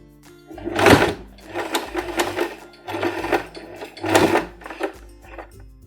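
Felt fabric for a bunny-ear headband being stitched on a sewing machine, heard as several short whirring runs of stitching separated by brief pauses, fairly close and with no talking.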